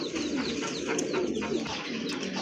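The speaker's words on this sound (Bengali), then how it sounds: "মাশাআল্লাহ আরেক জোড়া কবুতর, রেসার কবুতর" Racer pigeons, a black check pair among birds offered for sale, coo softly and continuously at close range. Soft rolling calls and faint chirps overlap throughout, with no talking.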